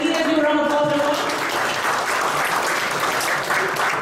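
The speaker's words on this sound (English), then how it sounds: "Let's give a round of applause for everyone" Steady, dense applause from a keynote audience fills the room, loud and continuous for about four seconds, with a faint voice heard near the start.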